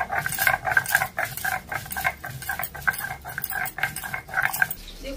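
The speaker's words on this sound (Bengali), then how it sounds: "তো এটা আবার সর্ষে জিরেটা বেটে নিচ্ছি।" Mustard seeds and cumin being ground into a paste, with steady rhythmic scraping and knocking strokes that repeat quickly and evenly, close and fairly loud, with no talking.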